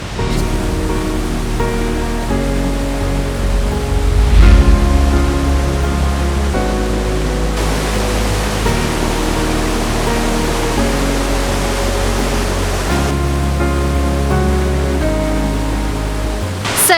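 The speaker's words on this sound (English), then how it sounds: "This is a waterfall called Pistyll Rhaeadr." Pistyll Rhaeadr in mid-Wales, the tallest waterfall in Wales and highest single-drop fall in the UK, gives a steady, loud, broadband roar that runs unbroken throughout, with sustained tonal layers over it.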